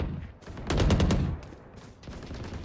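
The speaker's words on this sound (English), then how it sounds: "My bullets literally lagged behind where I was shooting." A fast burst of rapid gunfire in a deathmatch video game, loud for about half a second, followed by quieter scattered shots and game noise, with no talk.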